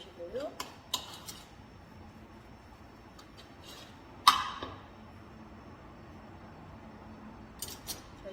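A spoon stirs and mixes seasoned meat in a bowl for Korean meatball soup, producing soft scraping and a few sharp clinks of metal against the bowl, quiet and intermittent.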